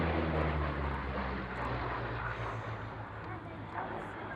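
A Spitfire flies a display at an air show, a broad engine roar that drifts and fades steadily, with a voice speaking over it.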